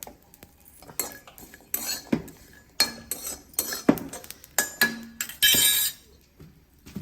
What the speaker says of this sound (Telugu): వీటిని తీసేసుకొని శుభ్రంగా నీళ్ళల్లో వేసి కడిగేసుకోవాలి